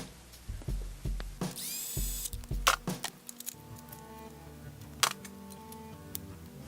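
Bolt tightened into a Mini Cooper transmission sensor with a power tool: short whirring bursts and clicks, with a few sharp metallic knocks, close and fairly quiet.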